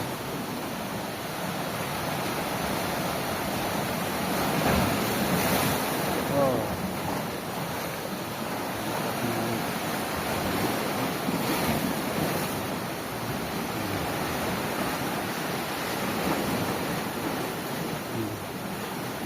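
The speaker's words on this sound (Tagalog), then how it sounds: "Ang lakas ng wave." Strong ocean surf rolls in a continuous loud roar on a fishing trip, with wind buffeting the microphone and broad swells of crashing water rising and easing.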